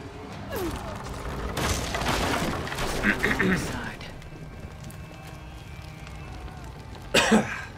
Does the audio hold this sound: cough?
yes